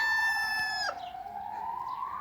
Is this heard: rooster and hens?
yes